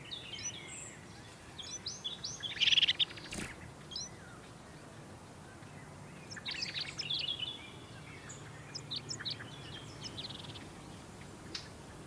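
Blue tit calling in the Canary Islands, short high chirps and call notes in two brief bursts over a quiet outdoor background.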